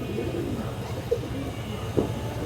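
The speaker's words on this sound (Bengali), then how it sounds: "এই দেখেন পুরো ফ্রেশ কবুতর" Indian high flyer Kaldam pigeons coo softly at a market stall, with low repeated coos and a couple of brief louder calls over a steady background hum.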